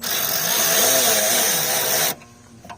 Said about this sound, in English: We won't tighten it all the way